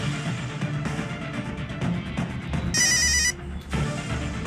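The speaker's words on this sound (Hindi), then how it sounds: "मुमताज भाभी को फोन लगाता हूँ।" A phone rings once with a bright warbling electronic tone for about half a second, set against busy background noise and music.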